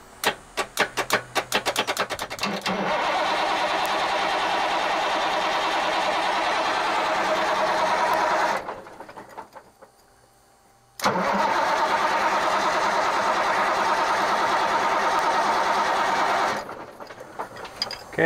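A Ford CLT9000 cabover truck's diesel engine cranks with rapid starter pulses, then turns over in two long, loud sustained bursts of about six seconds each, separated by a short near-silent pause, with the fuel lines loosened at the injection pump.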